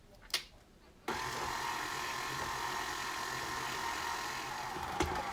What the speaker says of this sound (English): And we're going to mix it for at least 2 to 3 minutes, just to make sure that everything is nice and incorporated.